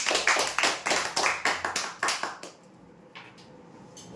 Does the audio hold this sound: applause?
yes